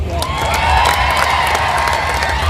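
A large crowd at a Rahul Gandhi rally in Solapur applauds and cheers, steady dense clapping with shouts mixed in, loud and unbroken for the whole span.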